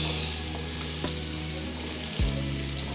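Onions dropped into hot oil in a pan for an asanka dish, a close, continuous loud sizzle with a low steady hum beneath and a brief knock partway through.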